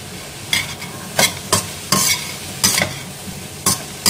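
Small pieces of potato are stirred in a pan, producing loud, close scraping and shuffling bursts at uneven intervals, with a low sizzle in between. Nobody speaks.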